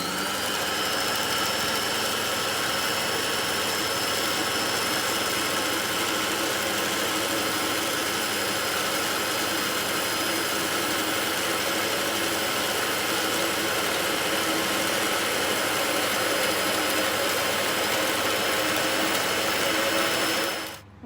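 Electric mixer beating melted butter into brownie batter in a bowl, a steady loud motor whine and whir running continuously for about twenty seconds, then cutting off abruptly.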